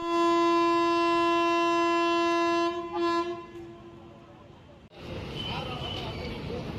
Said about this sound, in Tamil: வண்டி வந்து வந்த 2 மினிட்ஸ்லேயே வந்து டிபார்ட் பண்ண ஆரம்பிச்சிட்டாங்க